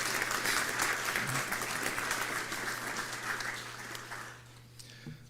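An audience at a university law faculty event applauds loudly, a full burst of clapping that tapers off near the end, with a faint voice and a low hum beneath.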